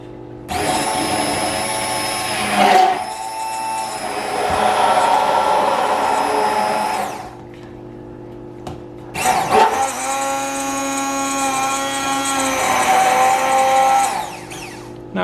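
Kelitos five-piece blender in turbo mode, two loud high-pitched whirring runs of several seconds each separated by a short lull, the motor pitch rising and wavering as it spins up, close and alone.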